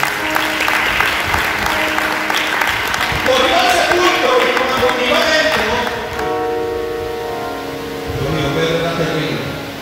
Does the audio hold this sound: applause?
yes